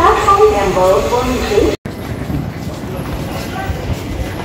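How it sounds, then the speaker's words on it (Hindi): Train pulling into a station, rumbling and clattering loudly with a short cutout partway, under people talking excitedly nearby. "ट्रेन हम लोग पहुंचे स्टेशन और ट्रेन भी पहुंच गई है।"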